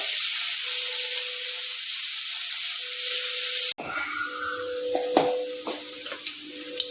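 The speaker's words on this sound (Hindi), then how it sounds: "मध्यम आकारक प्याज के काट के दऽ रहल छियै। एकरा हल्का गुलाबी तक पकेबै।" Chopped onion fries in a pan for a Maithil-style chana dal and lauki curry, a loud steady hiss that cuts off abruptly, then resumes softer with stirring clinks and scrapes.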